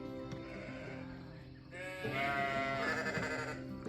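Several sheep bleat nearby, wavering cries overlapping one another above a low background hum.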